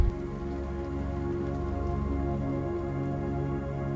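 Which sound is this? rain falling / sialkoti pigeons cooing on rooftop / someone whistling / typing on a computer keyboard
rain falling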